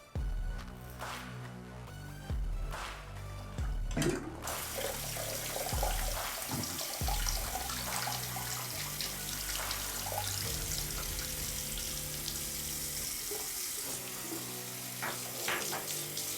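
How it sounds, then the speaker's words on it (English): Tap water runs steadily into a sink while something is rinsed under it in a bathroom shaving setup, a continuous close splashing wash with shifting tones and no talking. "let me give this a rinse"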